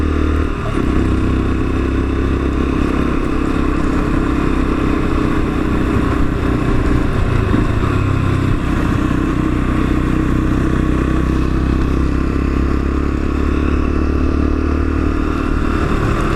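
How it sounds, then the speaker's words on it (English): Lexmoto Assault motorcycle being ridden, its engine droning loud and steady with a low rumble and continuous road and wind noise, no talking. "A very, very easy motorcycle to ride, this one."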